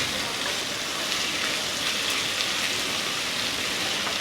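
Eggplant pieces being stirred into sushni greens in a hot pan give a steady, dense sizzle like rain, continuous and fairly loud throughout with no talk.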